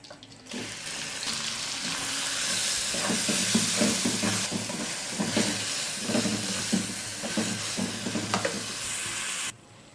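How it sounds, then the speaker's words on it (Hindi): Chopped onions fry in oil toward golden brown for masala okra, a steady broadband sizzle running almost the whole clip with scattered scraping and stirring clicks, close and alone without talk. "इसी ऑयल में ये जो चॉप किए हुए हमारे पास प्याज थे, ये डाल के गोल्डन ब्राउन कर लेंगे"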